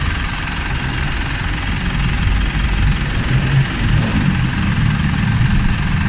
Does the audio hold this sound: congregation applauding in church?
no